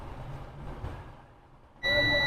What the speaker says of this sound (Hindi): आप देख रहे हैं यहाँ पे साउंड आ रहा है अलार्म का